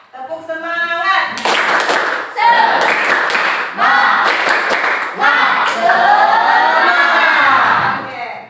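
Classroom pupils clap in patterned, rhythmic bursts of spirit clapping, loud and close, with several separate runs and children's voices chanting along between and over the claps.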